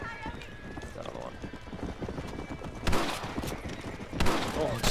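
Bursts of gunfire from the Western video game Red Dead aimed at coyotes threatening farm animals, two sharp broadband shots standing out over steady horse clip-clop and in-game voices.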